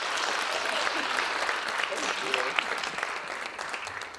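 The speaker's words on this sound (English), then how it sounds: "let's give Robin and Darius a big round of applause" A theatre audience gives Robin and Darius a round of applause after a performance, dense, steady clapping with faint voices mixed in.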